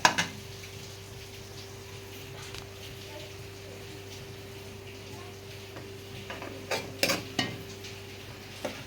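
Onion and tomato frying in a pan for chana masala, with a soft steady sizzle under intermittent spoon-on-pan clinks that cluster near the end.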